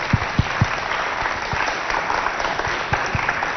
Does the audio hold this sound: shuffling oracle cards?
no